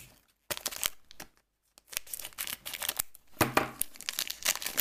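Japanese Dragon Vault Pokémon booster pack being torn open: quick bursts of crinkling foil and tearing, close and fairly quiet, separated by short silences.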